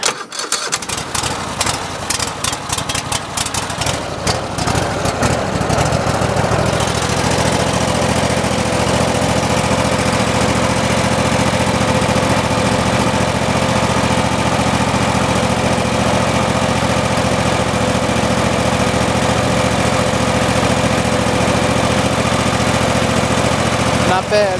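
A Kohler Courage 25hp engine on a 2008 Cub Cadet i1050 zero-turn mower starts cold with the choke on, sputtering briefly before settling into a loud, steady idle that runs close and continuous for the rest of the time.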